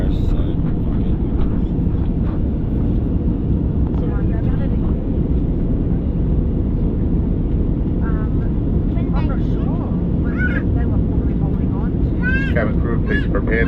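Airplane cabin noise during descent: a constant, loud, low roar of engines and airflow fills the cabin throughout, while people talk intermittently over it.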